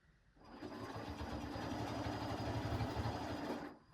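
A sewing machine stitches along quilt sashing, a steady close mechanical whir that starts after a brief pause, runs evenly for about three seconds and then stops, with no talk.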